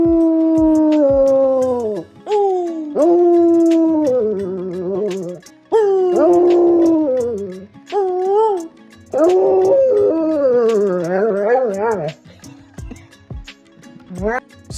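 A basset hound howls loudly and close in long, wavering, pitch-sliding phrases, broken by short pauses and ending in whimpering yips.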